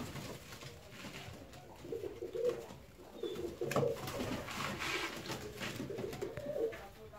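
Soft, low cooing from domino pigeon chicks comes in short, repeated murmurs over a faint background hiss, close by and gentle.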